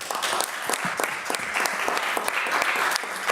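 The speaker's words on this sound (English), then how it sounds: "Let's give them a round of applause." A county board meeting audience breaks into applause, dense crisp clapping with some distinct individual claps, steady and fairly near for a few seconds.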